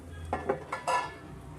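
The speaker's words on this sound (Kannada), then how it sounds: "ಸ್ವಲ್ಪ ತಟ್ಟೆ ಮುಚ್ಚಿಬಿಡೋಣ" A metal plate set over a dosa pan as a lid, a short cluster of clanks and a scraping clatter of metal on metal, close and fairly quiet, with no talk.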